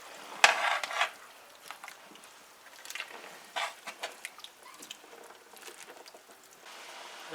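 A spoon stirs chicken foot soup with eddo leaf in a pot, giving faint, scattered scrapes and light clinks against the pot with quiet pauses between them and no voices.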